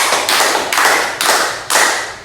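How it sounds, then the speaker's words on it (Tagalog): A class of students claps in a Filipino classroom, giving four or five loud, sharp, evenly spaced group claps close by with no talking. "bigyan natin sila ng 5 palakpak"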